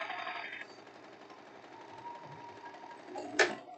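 A sewing machine stitches a French seam on elastic-waist trousers, a steady close mechanical run that fades and then ends in a brief louder burst.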